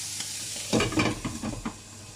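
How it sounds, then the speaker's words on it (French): Carrots and mushrooms cook in a covered pan, giving a soft, close sizzle broken by several brief stirring scrapes and clatters over a low background hiss. "il y a les carottes qui sont en train de cuire"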